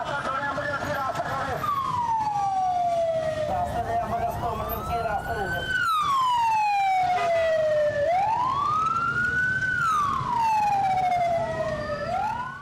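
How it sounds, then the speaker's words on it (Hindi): A loud ambulance siren wails in long rising and falling sweeps as it passes close on the road, with traffic noise underneath throughout. "एम्बुलेंस जब सड़क पर गुजरती है तो लोगों का उसके साथ रवैया कैसे होता है"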